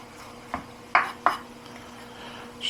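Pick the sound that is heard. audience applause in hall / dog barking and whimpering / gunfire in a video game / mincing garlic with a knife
mincing garlic with a knife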